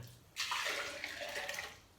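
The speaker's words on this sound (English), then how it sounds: "Put it into my container here" Homemade walnut carrot milk pours into a container, a close, steady liquid splash that starts suddenly and runs for about a second and a half before tapering off.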